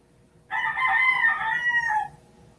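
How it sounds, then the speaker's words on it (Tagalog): A rooster crows once beside a house, a loud, close cock-a-doodle-doo lasting about a second and a half against a quiet background, with no talk. "Ang ingay po ng aming mga manok sa tabing bahay."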